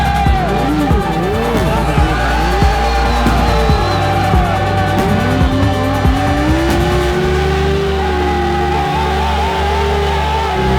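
A Suzuki Yoshimura endurance racing motorcycle crosses the finish line at the Bol d'Or, its loud engine howl rising and falling in pitch over a continuous roar of trackside noise.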